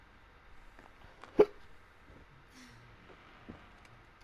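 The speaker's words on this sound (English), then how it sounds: "I got the hiccups, damn it." One short, sharp hiccup from a person stands out midway over a quiet background, followed by a fainter catch near the end.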